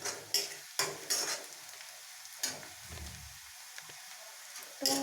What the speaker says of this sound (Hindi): तो आप देख रहे हैं प्याज का कलर हल्का हल्का चेंज होने लगा है, तो इसे हमें 1 से 2 मिनट और भून लेना है।